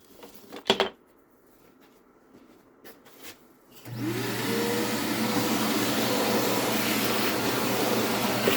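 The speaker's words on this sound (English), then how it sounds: "Do a really quick spot vacuum." A shop vacuum is switched on for a quick spot clean of a woodworking bench while epoxying a table saw wrench handle, whining up after a few knocks and clicks and then running at a steady loud drone.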